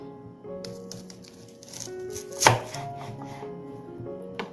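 A sharp knife chops through an onion on a board, cutting it into one-inch pieces for onion rings, with a few light taps and one loud, close chop standing out.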